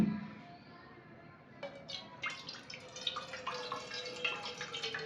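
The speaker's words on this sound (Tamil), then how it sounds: "இப்போ மா குழைக்கிறதுக்கு தேவையான தண்ணியாக விடுவோம்" Water pours into flour for dough in a steady trickling stream with small splashy drips, close and fairly quiet, after a brief soft sound at the start.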